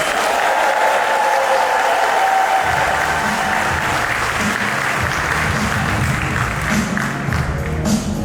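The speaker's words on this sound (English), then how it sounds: "if everyone can please give him a big round of applause" An audience at a fashion show breaks into loud, sustained applause for an honored designer, a dense wash of many hands clapping with some crowd noise.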